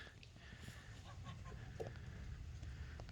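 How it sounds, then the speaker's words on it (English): Hens on an outdoor walk among backyard pets give soft, scattered clucks at a moderate distance, faint over a steady outdoor background hum. "behind him is a hen and, oh, no, another hen."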